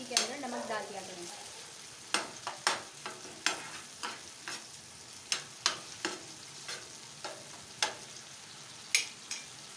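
Tomatoes and spices fry in a pan with a soft steady sizzle, broken by a series of sharp scraping stirs and clinks of a spoon against the metal, close and fairly quiet, with no one talking.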